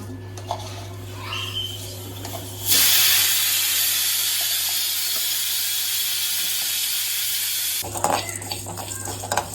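Tempering spices hit hot oil for a South Indian moong dal dish with grated coconut, bursting into a loud, steady sizzle and hiss that runs for about five seconds. A quieter pan clatter comes before and after it.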